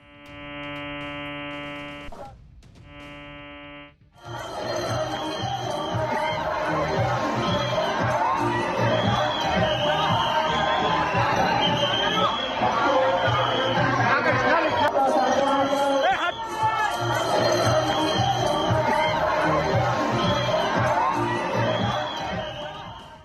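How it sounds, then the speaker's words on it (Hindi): A dense festival crowd at the Jagannath Rath Yatra, loud chatter and shouting that swells and holds after a few seconds of brief tonal beeps, with voices throughout. "तस्वीरें दिखाइए जरा कि किस तरह से वहां पर भीड़ है"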